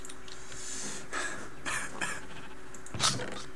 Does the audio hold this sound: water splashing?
no